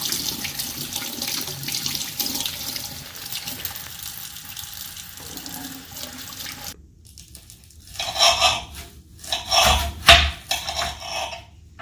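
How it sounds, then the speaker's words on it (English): Running tap water pours over hands being rubbed and washed at a kitchen sink, a steady rushing stream for several seconds, then shorter splashy bursts of water as the hands move in and out of the flow. "We are going to start off by washing our hands thoroughly."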